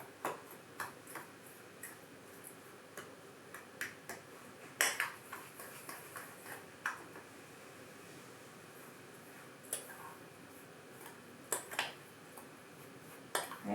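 A fork clinks and scrapes against a bowl while mixing cinnamon and dark brown sugar, light irregular taps and ticks, close and quiet, with no talking.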